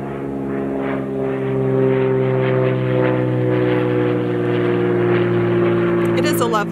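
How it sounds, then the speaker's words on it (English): A small propeller plane drones steadily overhead on an autumn day, a loud, continuous engine hum with layered harmonic tones that holds throughout under a speaking voice. "You are not watching my video to listen to airplanes fly over."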